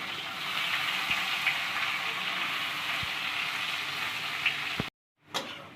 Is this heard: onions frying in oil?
yes